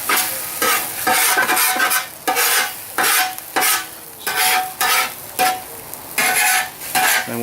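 Chorizo and egg being chopped and mixed with a spatula on a Blackstone 17-inch propane griddle, loud rhythmic metal scraping strokes in quick bursts over a continuous sizzle, close up and with no voices.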